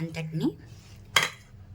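A spoon scraping and clinking in a bowl as mango pickle masala and oil are mixed for avakaya, with a few short metallic knocks and one sharp clink near the end over a faint hum.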